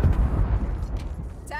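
A C4 charge detonates in Call of Duty: Black Ops Cold War, a loud low boom and rumble that fills the short moment, with game radio chatter heard over it.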